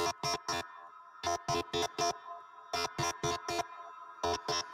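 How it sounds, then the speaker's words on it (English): Sharp glitchy beat hits from the GlitchScaper rhythm app on iOS, with reverb added, fall in tight repeating clusters of three or four, separated by short gaps, clean and unaccompanied by talk. "So let's add some reverb."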